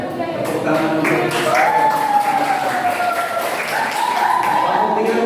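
Applause in a ninth-grade school classroom for group three: steady clapping from many hands with a raised voice cutting across it, continuing throughout.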